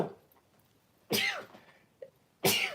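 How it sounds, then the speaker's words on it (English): A person sneezes twice in quick succession, close and fairly loud, with a short throat sound between them and quiet in the gaps. "I'm going to sneeze."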